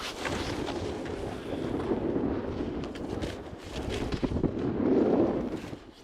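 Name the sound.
wind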